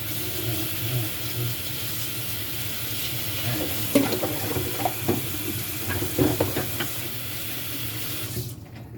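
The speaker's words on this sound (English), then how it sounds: "I have to wash my hands." Hands being washed under running tap water at a kitchen sink while preparing salmon croquettes, a steady broad rush of water with intermittent splashing and rubbing, close and fairly loud, ending abruptly as the tap shuts off.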